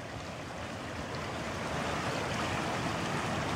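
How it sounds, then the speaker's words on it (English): Floodwater rushes steadily through a park, a dense, continuous roar of running water that swells slightly over a few seconds, with no voices. "So yeah, water's running a lot down here."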